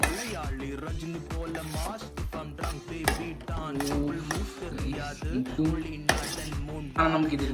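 Spicy noodles are stirred together in a bowl, with repeated clinks and scrapes of utensils against the dish under steady voices.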